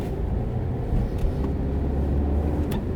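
Steady low engine rumble from a learner's car as it picks up speed during a driving lesson, continuous and close with no talking.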